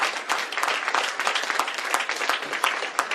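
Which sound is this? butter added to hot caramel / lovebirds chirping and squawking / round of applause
round of applause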